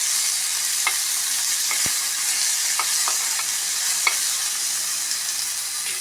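Food being stirred in a hot frying pan gives a continuous close sizzle, broken by scattered light scrapes and taps of a utensil against the pan.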